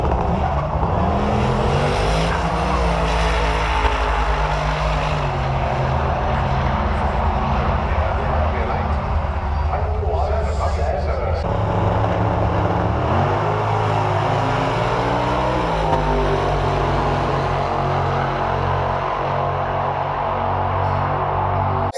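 At Santa Pod during the Pro Street semi-finals, a road-legal drag car on street tyres makes its run with a loud, continuous engine roar and rising revs over crowd and track noise, with a voice partly heard beneath it.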